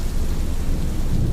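Heavy rain pours steadily at night with a low thunder rumble underneath, a dense, continuous wash of sound with no talking.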